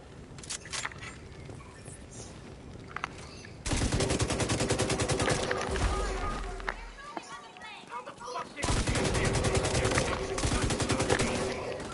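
Gunfire in The Division 2 on PS5: sustained bursts of automatic fire, loud and close, broken by a short lull, with someone talking over parts of it.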